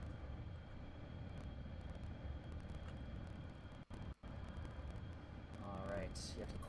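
A video-game airplane, a heavy plane accelerating down a runway, gives a continuous engine roar with a rising whine near the end. It sounds moderately loud, with a brief dropout midway.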